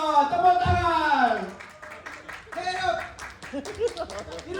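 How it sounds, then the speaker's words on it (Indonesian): Audience applause at a company quality-circle competition event, a burst of clapping rising and then fading, with an announcer's voice speaking over it and further scattered talk as the applause thins. "Fikri Hidayatullah, tepuk tangan"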